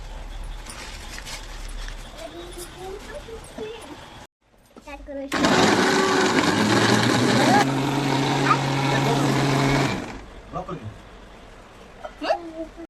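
An electric mixer grinder blends cashews into a paste for homemade paneer masala in a kitchen, a loud steady whir lasting about four seconds between stretches of nearby talk.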